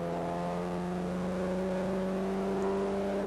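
A 1988 production racing car powers out of the Cascades corner, its engine holding a steady, strong tonal drone with a slowly rising pitch, fairly close, and no voices.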